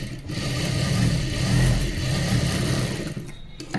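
An electric sewing machine stitches a hook strip onto a princess-cut blouse with front hooks, its motor giving a steady, close whirring hum that runs unbroken for several seconds.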